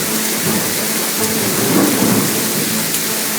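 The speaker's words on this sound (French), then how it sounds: "Le ciel se met alors à gronder et une énorme pluie s'abat sur les bois." Heavy rain pours steadily over woods while a deep rumble of thunder rolls through, loud and enveloping, with no voices.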